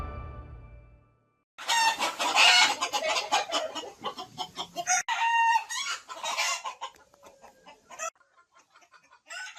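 Free-range village chickens kept as layers on a farm in Badung, Bali, cluck and crow close by in a busy overlapping chorus after a quiet start, then trail off into scattered softer calls.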